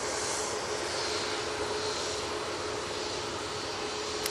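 A Boeing 737 MAX 8 jet on the active runway at Manchester Airport, heard as a faint, distant, steady engine hum with a thin sustained whine running through it.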